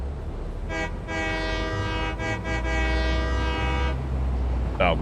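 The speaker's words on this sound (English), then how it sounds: "All right, here's our train. We just built some engines just because we could." In the video game Satisfactory, a train engine's horn sounds in a short toot, then a long sustained blast of about three seconds, over a steady low engine rumble, with a brief faint voice near the end.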